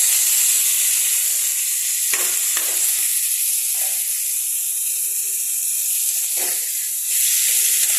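Mashed boiled banana flower hits a hot pan with a loud, continuous hissing sizzle that holds steady for several seconds, broken only by a few soft scrapes of stirring, without speech.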